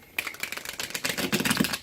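Tarot cards shuffled by hand in a quick run of soft, papery riffles and slaps, close and fairly quiet, with no voices over them.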